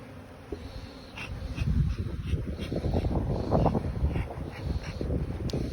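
Wind buffets the microphone with a steady low rumble that swells and gusts outdoors at a beehive, with a faint buzzing in the background.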